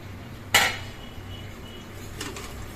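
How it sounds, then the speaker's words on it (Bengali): A metal lid is lifted off a cooking pot of boiling sour egg curry with one sharp, bright clank. A softer clink follows about a second and a half later, over a quiet kitchen background with no talking. "ঢাকনাটা খুলে দিলাম"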